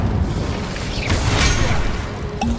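Incendio fire spell in Hogwarts Legacy: a loud rumbling whoosh that swells into a bright flaring burst midway, then settles back into a low roar, with no speech over it.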